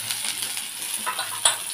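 Fried potatoes with chilli, turmeric and salt stirred in a pan, a soft sizzle with scattered scraping spoon strokes and one sharp metallic clink near the end.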